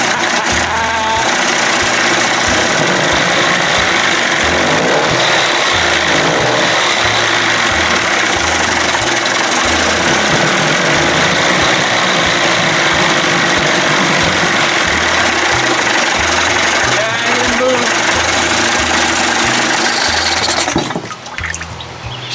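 A 1989 Johnson Tracker 25hp outboard motor runs steadily, a loud close throbbing engine drone with a pulsing low rumble and watery burble, continuous throughout before easing slightly at the very end.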